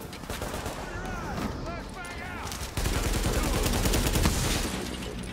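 A gun turret in Tom Clancy's The Division fires a loud, continuous stream of rapid automatic shots, growing heavier halfway through, mixed with other game sounds and a voice now and then.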